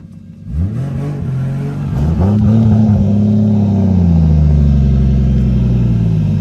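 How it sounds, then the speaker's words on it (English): A loud drift car engine revving hard, pitch climbing and holding at a sustained high roar, close and continuous. "Drift car shenanigans."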